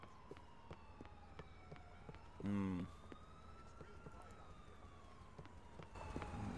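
An ambulance siren wails in the GTA IV video game, rising and falling through the scene. A brief loud burst cuts in partway, and a person hums quietly at moments.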